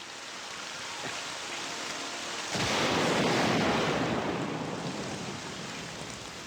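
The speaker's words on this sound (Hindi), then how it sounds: "बिजली जोरों से कड़क रही है।" Rain hisses steadily, then a loud crack of thunder breaks in and rolls into a long rumble that slowly fades beneath the downpour.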